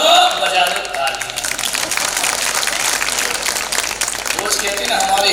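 An audience at a Hindi religious discourse in Salumber, Rajasthan breaks into loud, continuous applause, dense overlapping claps holding steady from start to finish.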